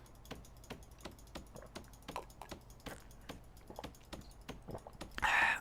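A computer mouse button is clicked over and over while playing Prison Architect, a steady run of soft, close, quiet clicks with a brief louder rustle at the end and no speech.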